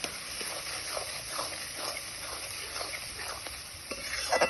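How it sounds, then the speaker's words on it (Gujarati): A spoon stirs sugar and Maggi masala into a cooking mixture for ringan nu bhartu, the eggplant dish, with soft scraping strokes over a faint, steady sizzle. "અને ચપટી ખાંડ અને થોડો મેગી મસાલો નાખીશું અને આ બધુંને સરખી રીતે મિક્સ કરી લઈશું"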